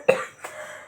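Two short coughs close by, the first sharp and loud, the second softer, with a brief breathy tail and no speech.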